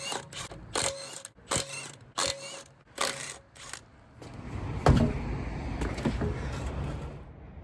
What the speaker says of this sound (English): I first need to jack it up and remove this wheel.